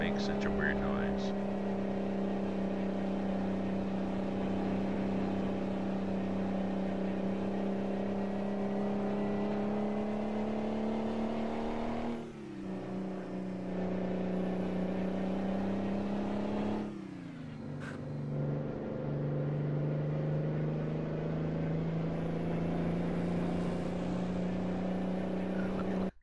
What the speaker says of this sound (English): It's just such a high revving engine that it sounds.